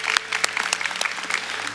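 A church congregation claps in thanks during a Sunday service, a brief burst of warm, moderately loud applause with distinct individual claps.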